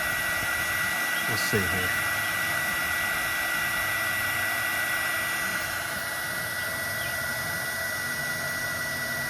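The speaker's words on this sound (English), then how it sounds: "heat gun is fantastic. It's just made for this." A heat gun blows a steady, loud roar of hot air onto a solder sleeve being sealed on wiring during a travel trailer brake job, with a brief spoken remark near the start.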